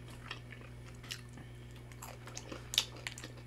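Someone bites into a Burger King Ghost Pepper Whopper topped with crunchy jalapeno crispies, giving a few close, soft crunches and chewing sounds with one sharper crunch near the end.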